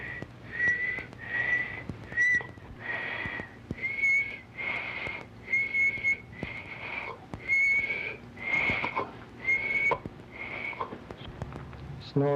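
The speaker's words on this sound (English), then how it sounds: "now whistle for us." A person whistles a series of short, steady notes on request during a palatopharyngeal function exam, each blown tone separated by brief gaps, fairly close and clear with faint breathing between.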